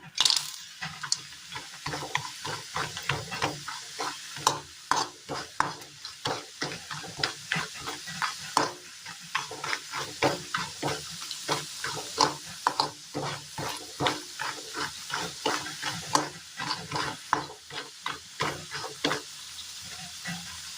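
Dried tapioca pieces frying in hot oil for a snack, a continuous crackling sizzle with frequent sharp pops and spatters, close and fairly loud.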